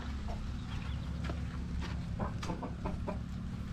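A hen clucks in short soft bursts over a steady low hum, several clucks spaced irregularly, fairly close.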